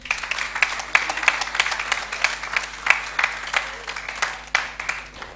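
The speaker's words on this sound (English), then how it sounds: "A round of applause for him." An audience at the FlutterBytes 2024 conference in Cape Town claps in a moderate round of applause, with dense, uneven hand claps that swell and ebb over several seconds in a hall.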